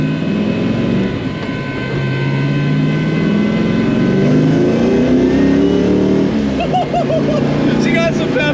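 A supercharged LSA-boosted 5.3 LS engine in a car revs loud and close in rising and falling sweeps, with a whine over the roar and brief voices under it.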